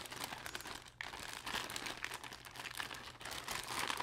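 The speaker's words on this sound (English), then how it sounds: "They're in the plastic bag, and they're a blister pack." A plastic bag holding a laxative tablet blister pack being handled, giving continuous close crinkling and rustling at a steady moderate level.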